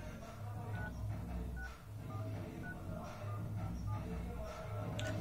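Keypad tones sound on a Vivo Y35 as a number is dialed, a series of short beeps in an uneven rhythm over a faint background hum.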